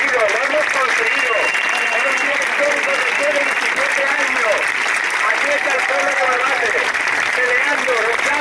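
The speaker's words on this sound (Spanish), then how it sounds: "Daros un aplauso a todos porque lo hemos conseguido" Large outdoor crowd at a citizens' march in Barbate, Cádiz claps steadily and loudly, a dense wash of applause with cheering voices mixed in throughout.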